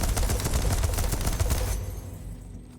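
Rapid gunfire in the Deathloop video game, a dense burst of repeated shots for nearly two seconds that then cuts off, leaving a fading reverberant tail.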